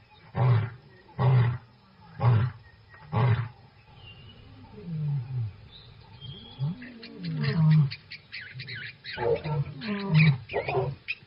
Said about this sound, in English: A lion's roar can be heard up to 8 kilometers away